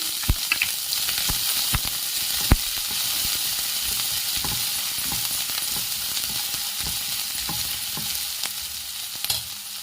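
Chopped onion and a thinly sliced green chilli fry in hot oil for sabudana khichdi, giving a steady close sizzle with intermittent stirring scrapes and clinks throughout, no voices.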